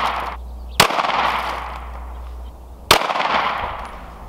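Two loud, sharp gunshots about two seconds apart, fired at a bulletproof binder insert outdoors, each a close crack followed by a brief decaying echo.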